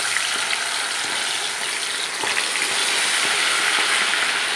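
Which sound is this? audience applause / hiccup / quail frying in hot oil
quail frying in hot oil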